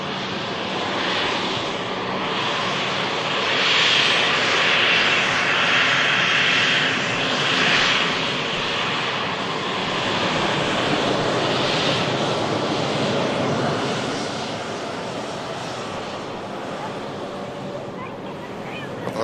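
Boeing 737 Max jet engines spool up at Manchester Airport, a broad steady roar that swells and holds near, with wind-like rushing throughout and faint voices underneath.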